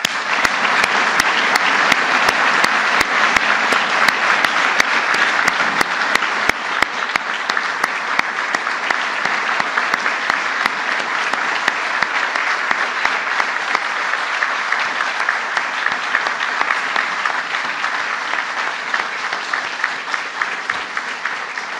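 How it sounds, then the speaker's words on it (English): A large audience gives a sustained, loud round of applause to Medal of Valor recipients at a firefighter honors ceremony, with dense, steady clapping filling the hall continuously for over twenty seconds. "I'd like to give one last round of applause to the recipients of the Medal of Valor"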